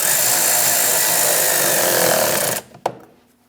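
A power tool tightens a hose clamp on a power steering line of a Chevrolet Express 2500 with a 4.8L V8: a loud, steady whir that stops abruptly, followed by a single sharp click.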